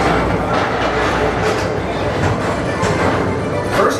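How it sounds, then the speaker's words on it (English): A Magic Kingdom Tomorrowland ride train rolls steadily along its elevated track, giving a continuous close rumble with light rhythmic clatter and no pauses. "Don't worry, your express train keeps on rolling through the future"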